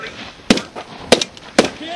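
Three sharp gunshots crack out at army training, spaced roughly half a second apart, each a loud close burst with a short decay.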